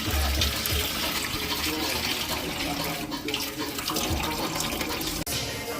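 Coolant draining from a Volkswagen Jetta 2.5 during a coolant flush, a steady loud rush of liquid pouring and splashing throughout, close by.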